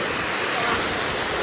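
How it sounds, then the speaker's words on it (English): Waterfall on a hiking trail along Lost Creek, a dense, steady rushing roar of falling water, close and loud without a break. "we've reached the third waterfall over here on the hike"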